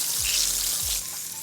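Fish fillets coated in batter frying in hot oil over high heat give a steady, loud sizzling hiss that fills the clip, with a couple of low thumps underneath and no talking.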